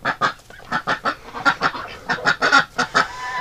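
Geese honking in a close, loud series of repeated calls, irregular but frequent, with ducks nearby and no talking over them.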